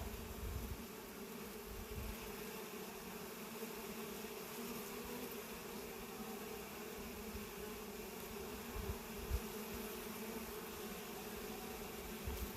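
Honey bees buzz around a hive in a continuous, even, fairly faint drone that holds for the whole stretch without pause.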